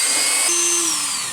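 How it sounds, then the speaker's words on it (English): A Dremel rotary tool cuts through a metal rod with a loud, steady high-pitched whine, and a lower grinding tone sets in partway through as the cut bites. "Turn on the Dremel."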